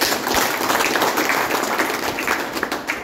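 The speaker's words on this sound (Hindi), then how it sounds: "एक बार जोरदार ताली इनके लिए भी" A crowd at an outdoor village welcome gathering in Meerut, India, applauds in a steady, dense wash of clapping, moderately loud and continuous.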